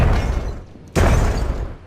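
A satchel charge explodes in Myth: The Fallen Lords, thrown against undead thrall. The rumbling blast dips for a moment, then hits again with a sharp, loud boom that fades into a low rumble.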